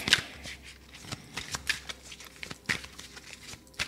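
Oracle cards being shuffled by hand: a few crisp riffling bursts at a steady pace, close and moderately loud, with no talk over them.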